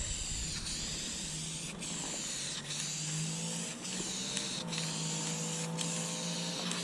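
A spray can lays down paint on a cowl hood as a continuous close hiss broken by brief pauses between passes. The can's rattle shows up as faint mechanical ticking, and no one speaks.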